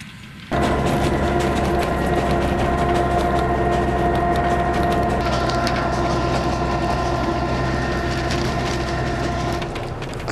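A small train on the Kecskemét narrow-gauge railway in Hungary rumbling along the rails, a loud steady clatter with droning tones, close by, easing slightly at the end.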